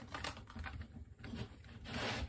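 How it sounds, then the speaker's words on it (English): A deck of tarot cards being shuffled, giving a quiet, close rustling and riffling that swells and fades over a couple of seconds. "Let me do some initial shuffling here."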